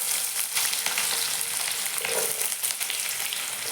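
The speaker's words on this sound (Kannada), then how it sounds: "ಜೀರಿಗೆ ಸಾಸಿವೆ ಹಾಕೈತ್ರಿ." Cumin and mustard seeds fry in hot oil, giving a steady, close crackling sizzle with small pops throughout and no voices.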